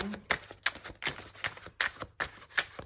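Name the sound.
shuffling tarot cards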